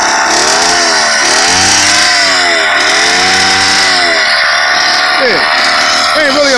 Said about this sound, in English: Give a little throttle for you so you can hear it rev up.